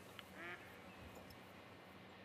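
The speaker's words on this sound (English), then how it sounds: "I hear the ducks." Ducks quacking in theHunter: Call of the Wild, a faint, distant call or two over a steady wash of outdoor ambience.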